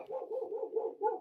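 Dogs barking faintly in the distance, a short run of muffled yips and bows over about a second.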